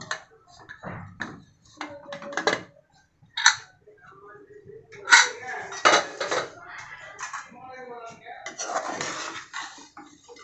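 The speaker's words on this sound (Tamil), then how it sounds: "இப்போ குக்கரை திறந்து பார்த்துடலாம்" Metal clanks and clatter from a pressure cooker being opened and pots handled, sharp intermittent knocks close by, mixed with a person talking throughout.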